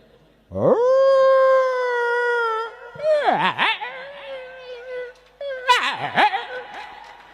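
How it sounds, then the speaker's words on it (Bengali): A dog howls in long rising and falling wails, first a sustained close tone and then two shorter wavering howls with whimpering breaks, loud and clear with no other sound. "এখন মহিলা কুকুর কি কয় শোনেন"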